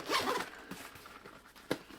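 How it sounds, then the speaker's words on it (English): The zip lid of a waterproof rubberized Solar SP C-Tech fishing tackle bag is pulled open with a close, loud zipping rasp, followed by quieter rustles and a short final tug. "Open it up, very tough, you know, waterproof, rubberized inside with a zip lid."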